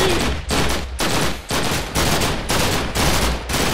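A minigun fires in a Minecraft modpack fight against Wither bosses, roaring in loud continuous bursts of rapid gunfire, each about half a second long, with brief dips between them.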